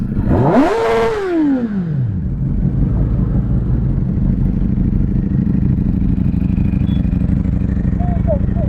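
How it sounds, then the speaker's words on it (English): A Kawasaki ZX10R superbike gives one loud, close rev that climbs and falls within a second, then settles into a steady rumbling idle for the rest of the clip. "Let's give one last rev, I guess."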